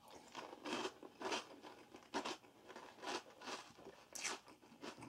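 Close, crisp crunching of someone chewing crunchy Beetlejuice cereal, with regular bites repeating about twice a second, quiet and alone.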